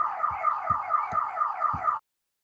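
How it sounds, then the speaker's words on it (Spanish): A car alarm sounds nearby, loud and alone, in a repeating warbling tone with regular low thumps, then cuts off abruptly. "se prende el alarma del carro"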